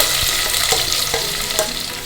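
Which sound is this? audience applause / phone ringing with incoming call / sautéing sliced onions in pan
sautéing sliced onions in pan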